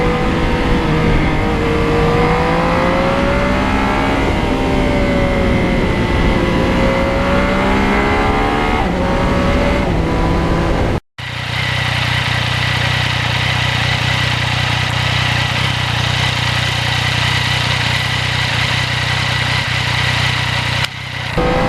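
A 2020 Yamaha MT-09 naked motorcycle engine revs loudly and up close, its pitch rising and falling through several blips, then a cut to a steady, droning run at high revs.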